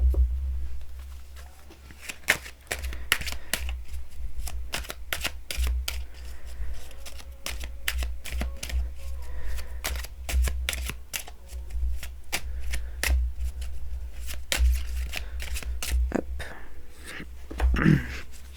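Tarot cards are shuffled for a reading, a long run of dense, close riffling and slapping bursts that continues steadily, with faint talk here and there.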